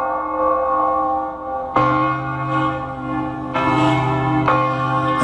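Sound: church bells ringing

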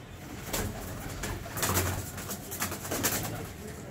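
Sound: pair of kamangar pigeons cooing

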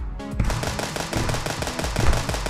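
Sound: sniper rifle gunfire in a video game

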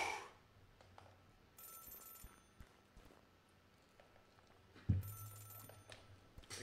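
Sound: telephone ringing in a video game

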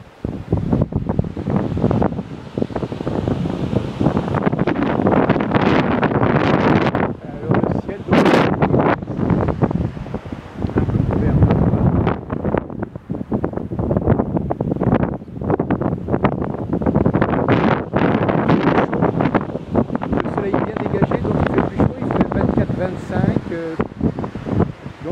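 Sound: wind blowing into the microphone at a seaside port

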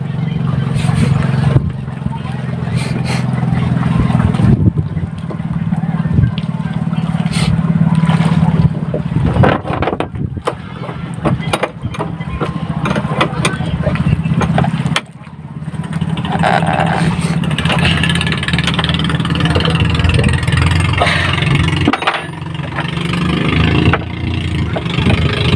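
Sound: engine of a serisan vehicle running after maintenance

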